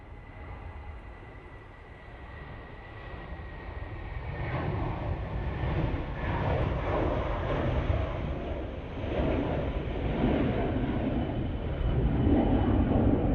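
A BA shuttle Airbus A320 departing Manchester Airport, a broad roaring jet engine rumble that swells steadily louder over about thirteen seconds, heard at a distance outdoors with no talking.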